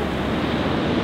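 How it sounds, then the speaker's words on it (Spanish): Sea waves washing onto the shore make a steady, loud rushing wash of surf with wind noise across the whole short stretch. "cómo las chalas de la Meli se han ido por el poder del mar."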